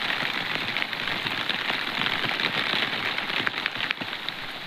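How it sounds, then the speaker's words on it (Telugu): Steady rain pours down on a hard surface, a dense continuous patter with scattered louder drops, close by and without any voices. "వర్షం"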